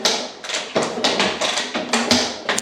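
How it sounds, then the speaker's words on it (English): Repeated kicks of a Yamaha XT600Z Ténéré motorcycle kick-starter with the throttle open, about seven sharp mechanical thumps at a steady rhythm, close and fairly loud, with no talk. "Give her a few kicks with open throttle."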